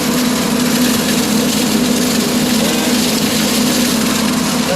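Tractor driving a John Deere 15-17 brush hog through the last cornstalks, a loud steady engine and mower drone with a constant hum and no pauses.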